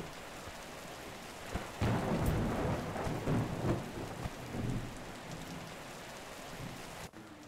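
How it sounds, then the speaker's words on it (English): Steady rain and rolling thunder fill a storm in the video game Cattails: Wildwood Story. The thunder swells in the middle and then fades back to a constant rain hiss, with no voices. "There's a storm now."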